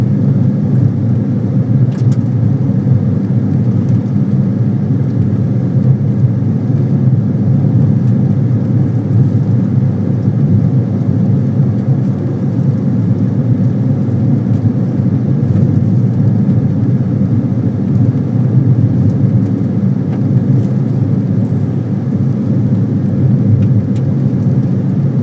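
A vehicle passes a scenic outlook on an Indian reservation, heard as a steady, loud low engine and road rumble that holds through the whole stretch without voices.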